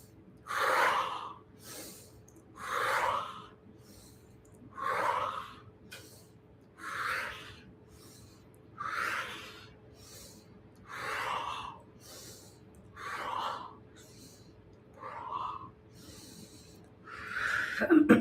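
Slow, heavy breaths during a breathing exercise, about nine deep forceful exhalations with a rushing, hissing quality, evenly spaced roughly two seconds apart, close and alone with quiet pauses between.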